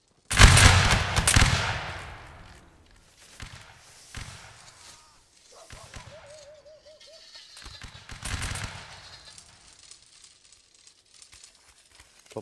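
Musket volleys in the Napoleonic Wars game: a loud crackling burst of massed musket fire at the start, then scattered distant shots and a few more smaller bursts, with brief shouting in between.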